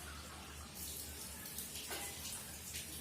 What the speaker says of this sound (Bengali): একটু জল দিয়ে দিই, জলটা কম আছে।